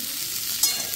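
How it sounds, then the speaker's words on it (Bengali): Fried rice being stirred and mixed in a hot pan, a steady close sizzle with a brief scrape of the utensil. "ভালো করে এটাকে নাড়িয়ে চাড়িয়ে মিক্স করে নামিয়ে দিতে হবে"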